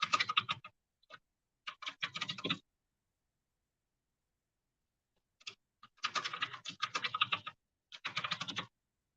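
Fingers type a password on a computer keyboard in quick bursts of close, crisp key clicks, separated by a long silent pause, with no voices.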